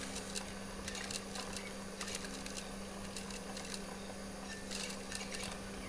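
A sewing machine stitches a baju koko kurta shirt from the outside, giving a faint, steady mechanical whir with a low hum and light repeated ticking.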